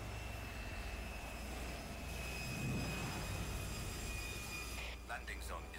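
A steady, droning aircraft engine in the video game 007 Everything or Nothing roars continuously at an even level, with a few brief clicks near the end.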